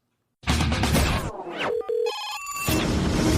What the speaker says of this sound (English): I think I see the phone ringing